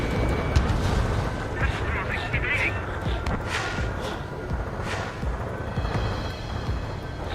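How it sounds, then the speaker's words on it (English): Missile strikes in Ace Combat 7 burst into dense, rumbling explosions over continuous jet and combat noise, with radio-style voices speaking across it. "Missile hit."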